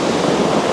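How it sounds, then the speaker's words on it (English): Sea water surges over gigantic pebbles on a beach along South Africa's Garden Route, a loud, close, continuous rushing wash with no voices. "The sound the water makes when it hits these pebbles, these gigantic pebbles, is incredible."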